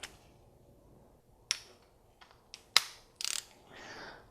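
Ratchet wrench snugging spark plugs by hand on a VW MK7 GTI engine, a few short sharp clicks and ratcheting bursts spaced across a quiet workshop background.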